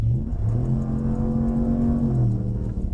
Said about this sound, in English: And here we accelerate because we have open ground